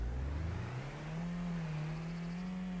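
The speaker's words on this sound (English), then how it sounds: "Take the car out for a spin." A car in Farming Simulator, on a map set in Scotland, drives along with a steady engine drone that rises in pitch early on as it accelerates, then holds an even tone close by and alone.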